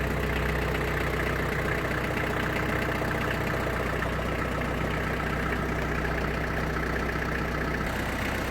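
A Kubota Saturn X-20 mini tractor's diesel engine idles steadily just after starting, a close, loud, even low rumble with a constant throbbing drone throughout.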